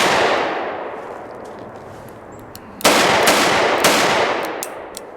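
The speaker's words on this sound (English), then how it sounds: "We're just going to fire a couple into the center mass area" A Smith & Wesson 686 revolver fires .357 jacketed hollow points outdoors, with two sharp, loud reports about a second apart, each with a long ringing decay.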